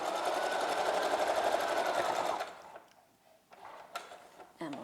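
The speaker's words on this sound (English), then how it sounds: "I'm going to stitch all the way down to the corner" A sewing machine stitches the corner of a cloth face mask with its tie. A rapid, close buzzing whir lasts about two and a half seconds, then stops, followed by quieter handling clicks and rustles.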